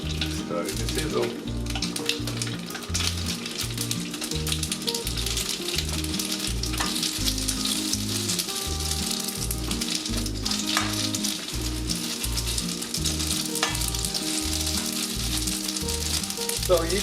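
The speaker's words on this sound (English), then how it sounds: "Starting to sizzle." Loud, continuous sizzling of noodles frying in hot oil for Thai pork rad na, with occasional stirring scrapes and a rhythmic low thumping beneath.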